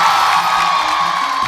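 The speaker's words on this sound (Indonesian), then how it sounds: "Coba sekali lagi teriakan dari bawah ke atas semuanya" Studio audience cheering and shouting in unison, a loud, dense crowd roar sustained throughout.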